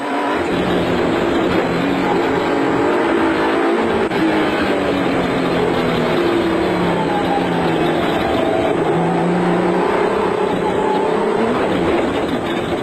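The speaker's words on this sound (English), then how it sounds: "The Grobler Nissan had developed an intermittent misfire resulting in the V6 engine firing only on 5 cylinders for much of the race" Grobler Nissan V6 off-road race truck in the 2003 Sugarbelt 400 in South Africa, its engine running roughly on five cylinders from a misfire, a loud continuous roar with shifting pitch and wind noise throughout.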